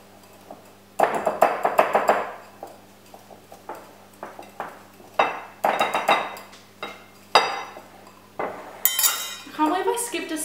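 A whisk beats butter in a bowl, clinking against the sides in quick rhythmic bursts with brief pauses between, close and fairly loud.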